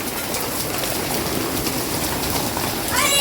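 Small hailstones fall during a sudden village rain shower, a dense steady hiss and patter of pellets striking surfaces, close and continuous, with a faint voice-like tone near the end.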